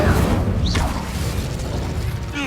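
Incendio fire spell cast in Hogwarts Legacy, a loud sustained whooshing roar with mechanical crackle, a short rising swish near the start and a brief bright flourish at the end, no talk.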